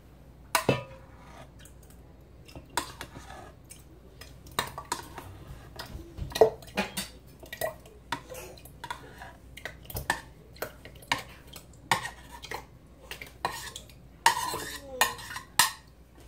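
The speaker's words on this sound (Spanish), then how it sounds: "Ahora vamos a mezclar la mezcla al agua." A mashed strawberry mixture stirred into water for lemonade, heard as a steady run of light clinks and taps of a utensil against a container, quiet and close, with a few louder knocks.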